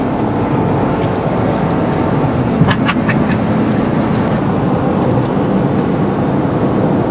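A truck cruising on the highway toward St. Louis gives off a steady, loud road and engine drone from inside the cab, with a few faint brief clicks around the middle and no talking.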